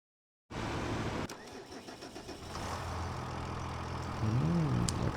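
A tractor engine in Farming Simulator 25 cranks to life after a moment of silence, settles into a steady mid-pitched idle, then rises briefly in a short rev near the end.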